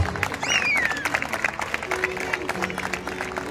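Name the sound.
audience applause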